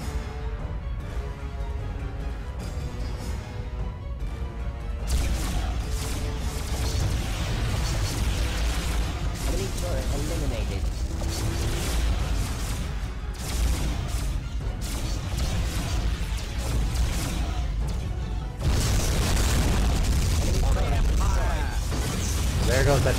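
Repeated explosions and crashing bursts as enemy turrets are destroyed in the PS2 space strategy game Star Trek: Conquest, loud and continuous with mechanical clatter, overlaid by an excited speaking voice.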